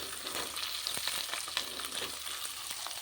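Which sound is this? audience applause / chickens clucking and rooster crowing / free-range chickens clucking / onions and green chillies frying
onions and green chillies frying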